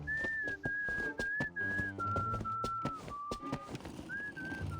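A short whistled tune in the game Reverse: 1999, clear sustained notes stepping down in pitch over soft background music, close and alone without talk.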